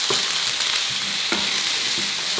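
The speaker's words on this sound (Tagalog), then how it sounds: "Itutuloy ko lang ang pag-isa dito hanggang lumambot na yung sibuyas." Chopped red onion sautéing in a pan for dinuguan, a close, steady sizzle broken by a few soft stirring knocks.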